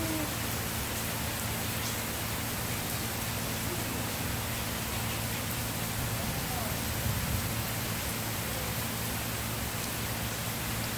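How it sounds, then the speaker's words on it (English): Steady, dense rain falls during Hurricane Irma in Florida, a continuous hiss of drops on surfaces with a faint low hum beneath and nothing else standing out. "It's raining."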